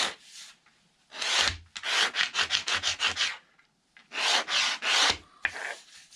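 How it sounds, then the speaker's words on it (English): A straight razor scrapes down raised wood ridges on a control-line model plane build, making close, dry rasping strokes in quick rhythmic bursts with brief pauses between them and no talking. "And you either scrape the ridges off or you just flatten them down."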